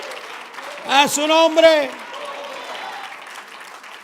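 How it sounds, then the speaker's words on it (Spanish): A church congregation applauds during a sermon, a steady wash of clapping heard under a voice speaking loudly over it. "dele un fuerte aplauso al Señor"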